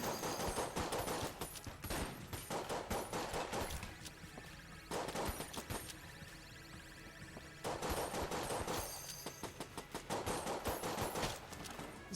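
Sustained rapid gunfire from a gun in the roguelike shooter Enter the Gungeon, loud continuous bursts with brief pauses between volleys, no talking.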